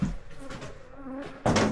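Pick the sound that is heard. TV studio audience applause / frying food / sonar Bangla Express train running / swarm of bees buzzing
swarm of bees buzzing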